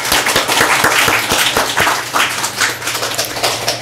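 A church congregation applauds the choir with a burst of brisk, crisp clapping that thins out and fades after about two seconds, leaving a low room hum.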